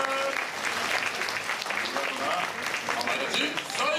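Audience applause fills the room at the Turtle Talk show at Tokyo DisneySea after a child answers correctly, a continuous, even wash of clapping with faint voices underneath.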